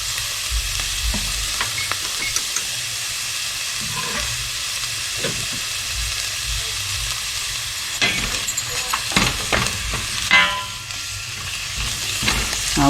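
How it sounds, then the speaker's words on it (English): Peas, chard, cilantro, dill, garlic and onion frying together in a pan, a steady close hiss and sizzle with occasional stirring clatter and scrapes, no talk. "you want to kind of fry all the herbs and vegetables together"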